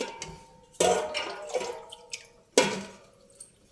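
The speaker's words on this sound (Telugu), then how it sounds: "కొంచెం వాటర్ వేసుకుందాం." Water goes into a simmering tamarind pulusu with radish and bottle gourd pieces and vadiyalu, making two sharp close splashes a couple of seconds apart with small drips and trickles between them.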